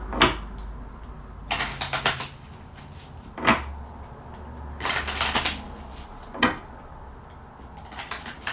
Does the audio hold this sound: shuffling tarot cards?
yes